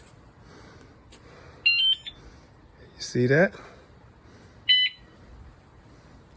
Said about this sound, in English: When I leave it locked up and I put on the alarm